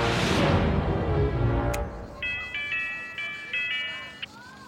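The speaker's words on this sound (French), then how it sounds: "N'appuie pas sur cette sonnette." A cartoon doorbell rings several times in a bright repeated chime, clear and close, after a burst of noisy rushing at the start.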